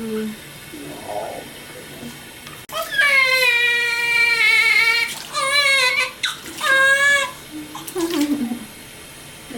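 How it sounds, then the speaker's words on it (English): A newborn girl delivered by emergency c-section for breech position is bathed in lukewarm water in a hospital. Soft water sounds run throughout, then loud, sustained bursts of infant crying take over in close, repeated wails. "when they were doing her bath"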